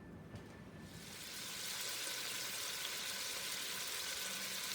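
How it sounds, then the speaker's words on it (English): Bacon frying in melted butter: a steady, close sizzle that swells after the first second and then holds evenly, with no talking. "here is the bacon cooking in the butter"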